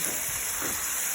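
Peppers and ground meat sizzle in a too-hot pan while dirty rice is being cooked, giving a steady, fairly loud broadband hiss that holds evenly through the short stretch with no talking.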